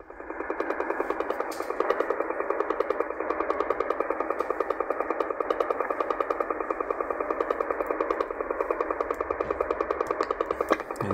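A shortwave radio signal on 11050 kHz pulses in a fast, regular rapid-fire ticking like the old Russian woodpecker, steady and loud over a band of static noise throughout.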